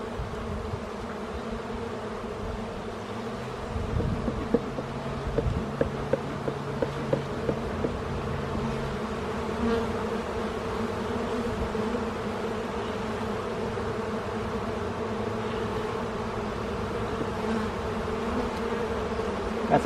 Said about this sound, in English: That's a lots of bees compared from the first times